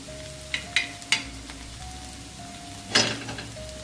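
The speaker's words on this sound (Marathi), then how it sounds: "आता मिरचीला पण आपल्याला थोडंसं असं हलवायचं।" Green chillies frying in oil are stirred in a pan, with a few sharp scraping strokes and clatters over a low sizzle and a faint steady hum, heard up close.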